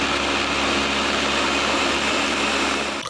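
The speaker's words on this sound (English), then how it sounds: "pour it into a blender and run on high" A blender churns champagne on its high setting, a loud continuous whirring roar that holds steady throughout and stops abruptly at the end.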